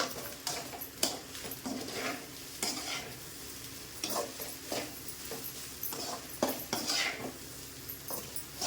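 Leftover rice with egg is stirred in a sizzling pan, with repeated scraping strokes and sharp clinks of a utensil against the metal in an uneven rhythm.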